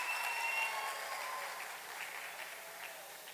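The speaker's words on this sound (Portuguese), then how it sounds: "uma salva de palmas para o professor" An audience at a Brazilian essay-writing class event applauds a teacher, a fairly soft, distant-sounding patter of many hands that slowly fades through the clip.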